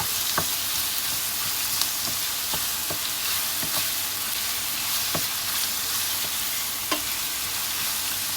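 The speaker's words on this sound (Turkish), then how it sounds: "Sarımsakları alalım. iyice kavuralım." Garlic frying with peppers in a pan for an aubergine dish, a loud continuous sizzle broken by regular sharp spatula taps and stirring scrapes, without talk.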